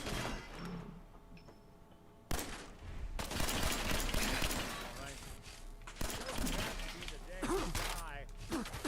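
Automated turret gunfire from the Fallout 4 video game, loud bursts of rapid shots with crashing impacts that come in waves over several seconds alongside other game noise, while a player talks over it at times.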